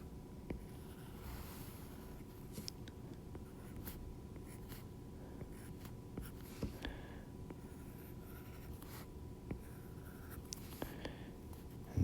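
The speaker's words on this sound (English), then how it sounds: "I'm going to draw a heart here" Pen strokes on paper while a heart diagram is drawn by hand: soft, close scratching and scribbling that continues steadily with small ticks and taps, over a faint constant room hiss.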